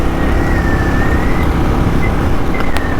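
A Royal Enfield Classic 350 motorcycle engine drones steadily and loudly as it winds up toward 60 mph, with a continuous rising tone and heavy wind and road rush throughout.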